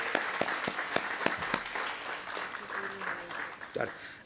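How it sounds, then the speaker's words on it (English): A short burst of clapping from a small audience at a school graduation ceremony, a few sharp claps at first, then scattered applause fading as murmuring voices come in. "So round of applause again to Sam."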